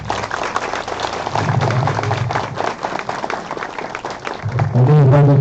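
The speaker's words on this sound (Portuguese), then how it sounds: "palmas para ele" Audience applause for a guest introduced at an interfaith gathering on religious tolerance, steady clapping filling the room, rising louder toward the end, with some voices mixed in.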